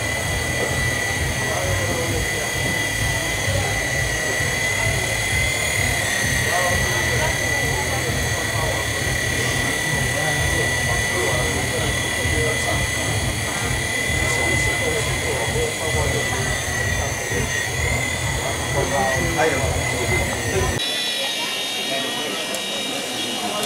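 A remote control toy helicopter flying indoors at a Hong Kong toy fair, its high steady motor whine continuous and fairly close, with a busy hall murmur underneath that drops away near the end.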